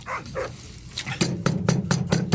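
Police dogs bark repeatedly in a tense radio drama scene, a series of loud, sharp barks in quick rhythm that grow stronger and more insistent toward the end, heard alone without talk.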